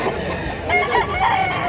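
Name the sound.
rooster crowing, chicken being sold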